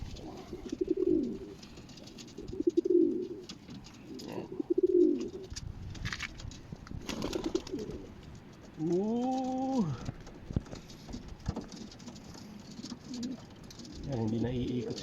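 Racing pigeon cooing close by, with several soft, repeated throaty coos and a few rising calls, amid light rustling and a voice.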